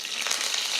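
A handful of curry leaves dropped into hot oil already holding mustard seeds, a brief dense crackling sizzle at steady loudness.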